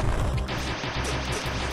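Charge beam shots fire in quick succession in the AM2R video game, forming a dense, loud, continuous burst of blasts with no talking.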